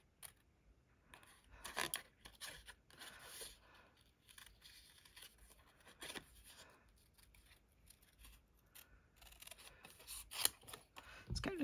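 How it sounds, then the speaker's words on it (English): Scissors fussy cut around a stamped paper image, giving scattered, quiet snips and paper rustles close by, with pauses between the cuts. "I think I might just fussy cut this out."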